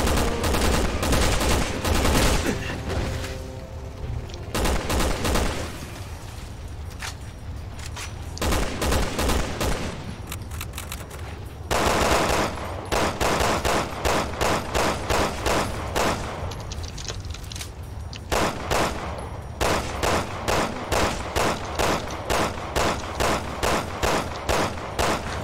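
Gunfire in Resident Evil 6, loud bursts of automatic fire and rapid single shots in dense volleys, with brief pauses between clusters and steady rhythmic shots toward the end.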